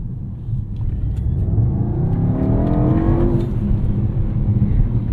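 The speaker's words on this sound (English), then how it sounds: "we'll step on it and give you a very slight" A 2024 Mercedes-AMG GT 63 S E Performance accelerates in sport mode, heard from inside the car as a deep engine rumble with a rising, building roar that stays steady and fairly loud.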